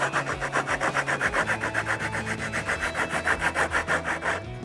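Steady, rhythmic rasping of 36 grit abrasive worked by hand over wood while shaping a rounded edge for a sink-mount dish drying rack, close and loud, about five strokes per second with no talking.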